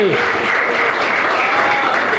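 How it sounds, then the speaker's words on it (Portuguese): Congregation applause fills a church during a Portuguese-language sermon, a steady dense wash of clapping from many hands that holds loud and even throughout, with a hint of voice underneath. "Palmas e glória a Deus."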